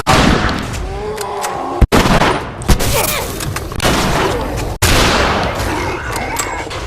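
Rifle shots from a firearm in the video game The Last of Us, several sharp loud cracks spaced across the clip amid busy game sounds, with a couple of abrupt bursts cutting through.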